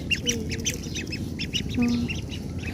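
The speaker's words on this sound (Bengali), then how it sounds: "পেটি হাঁস।" Several ducks quacking close by in quick, overlapping bursts, with a low background rumble.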